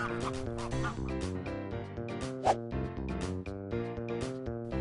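A duck quacks amid a bright, rhythmic children's alphabet tune, its calls blending with the loud, steady music.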